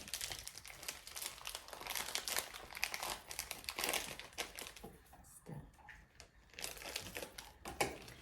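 A plastic bag crinkles and rustles close by while food is unpacked, a busy run of crackling handling noises with a short lull partway through, fairly quiet overall.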